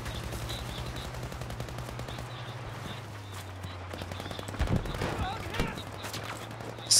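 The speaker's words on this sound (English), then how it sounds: "Stop shooting, please." Rapid gunfire in Battlefield V rattles steadily through a dense game mix with a low rumble underneath, a louder burst near the end, and voices talking over it.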